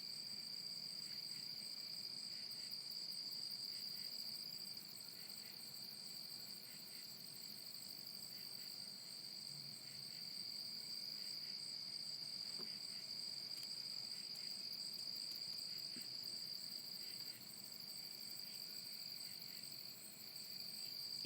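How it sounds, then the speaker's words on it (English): Crickets chirp at night in a steady, dense chorus that holds unbroken at a moderate level for the whole stretch, with no voices. "You're making all the crickets quiet,"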